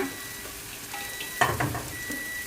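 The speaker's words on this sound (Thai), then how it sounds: "มันก็ผัดให้เข้ากัน" Old-style Thai noodles are stir-fried with chives and bean sprouts, with a steady sizzle and a louder burst of scraping and tossing partway through. The wok sounds close and no one speaks.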